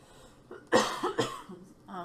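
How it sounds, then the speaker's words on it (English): A man coughs indoors, two sharp close coughs in quick succession with a short throat sound before them, followed by a brief murmur of voice. "I hate to have to cough like that"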